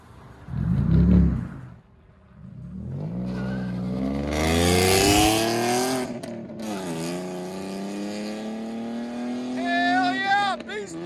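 A 2016 Ford Mustang V6 with straight-pipe dual exhaust barks, then revs up in a long rising and falling howl, loud and close, with people talking and exclaiming around it.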